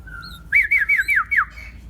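White-rumped shama chick calling while being hand-fed fresh ant eggs, a close, loud series of five or six rapid shrill squawking begging calls in a quick run, alone without talk.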